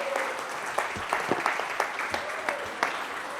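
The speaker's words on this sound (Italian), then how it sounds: "Grazie Giulio e un bel applauso a Giulio." Applause from an audience at an Italian football federation sports event, a steady patter of clapping with a few sharper claps standing out, moderately close and not very loud.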